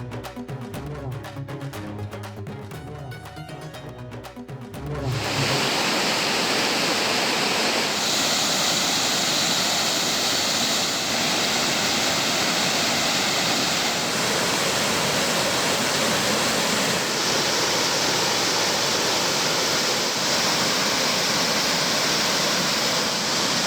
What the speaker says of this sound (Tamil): கும்பக்கரை அருவியில் தண்ணீர் ஆர்ப்பரித்து கொட்டுகிறது